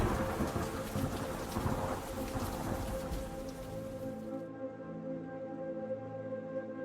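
A thunderclap with heavy rain in Warframe: a broad, rumbling roar over dense rainfall, loud at first, then fading as sustained tonal music takes over.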